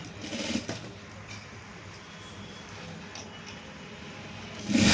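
A sewing machine stitches along fabric for tailored hands, with a steady low whirring that runs throughout. The sound is moderately loud and rises in a louder burst at the very end.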